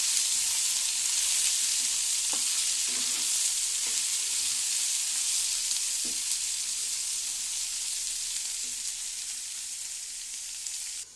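Pieces of ivy gourd fry in a spiced oil tempering, giving a continuous bright sizzle heard close up, with a few soft stirring knocks scattered through it, gradually easing slightly toward the end.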